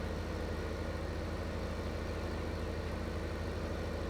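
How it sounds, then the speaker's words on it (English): A steady, low engine drone from a slow-moving tractor, a T8320 in Farming Simulator 15, holds a constant level with no variation, heard alone without any talking. "Don't remember this tractor going this slow before."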